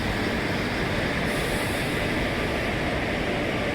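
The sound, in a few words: Guruvayur to Thiruvananthapuram Intercity Express train passing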